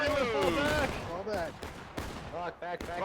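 Musket volleys in War of Rights, the Civil War battle game, heard as bursts of gunfire cracking beneath loud overlapping voices.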